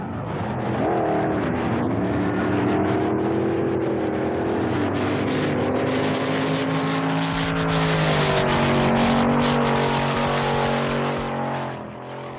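A wheelstander drag racing car running down the track, a loud sustained engine roar that shifts pitch as it revs and pulls away, fading slightly at the end.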